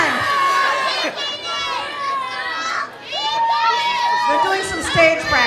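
Crowd at a 2014 pepper eating contest festival, a dense continuous roar of many voices shouting and cheering with high excited cries throughout, loud and close, with a brief dip near the middle.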